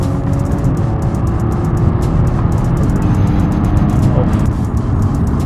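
A stock 2013 Audi S4 engine revving in dynamic drive mode, a steady loud rumble that holds throughout with no clear rise or fall.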